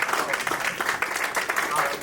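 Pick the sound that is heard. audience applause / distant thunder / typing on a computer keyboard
audience applause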